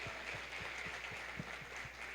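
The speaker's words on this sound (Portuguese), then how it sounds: "A gente pode receber o pastor Joaquim com a salva de palmas também." A church congregation claps for the pastor at a Sunday morning service, a steady patter of hands with soft rhythmic thumps under a continuous room hum, moderately faint and without any voices.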